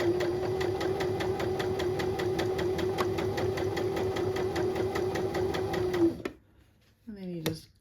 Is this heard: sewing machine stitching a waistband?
yes